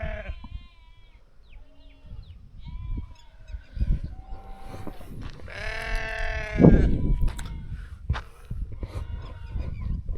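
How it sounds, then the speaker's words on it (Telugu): A flock of sheep approaches beside a farm field, bleating several times, with one long, loud bleat in the middle and fainter calls around it in an otherwise quiet outdoor setting. "చూడండి గొర్రెలు వస్తున్నాయి,"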